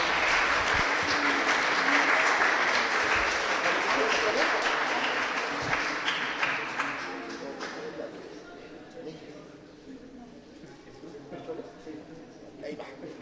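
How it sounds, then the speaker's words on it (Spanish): An audience at a music talk breaks into dense, loud applause that holds strong for several seconds, then thins out and fades to scattered claps and quiet murmuring. "Un aplauso, por favor."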